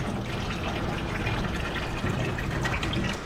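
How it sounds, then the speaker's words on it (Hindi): A motor pump sends water gushing steadily into an air cooler in a home in Gwalior, a loud continuous rushing and splashing fill that lasts throughout. "कूलर भर लेते हैं, पानी भी भर लेते हैं बोतल"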